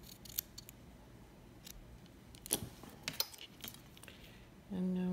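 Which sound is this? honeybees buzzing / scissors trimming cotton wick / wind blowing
scissors trimming cotton wick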